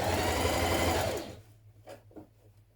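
A sewing machine stitching binding onto a blouse neckline, a loud close mechanical whir that runs steadily for about a second, then stops, leaving quiet handling sounds.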